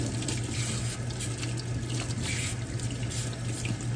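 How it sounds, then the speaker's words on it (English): A sink tap runs steadily while dyed ginger hair is rinsed, the water a constant close hiss from start to finish with no talk. "let's just rinse one side at a time"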